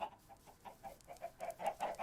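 Chickens in Minecraft cluck in a quick, uneven run of short, close bursts that grow slightly louder toward the end, with no voices over them.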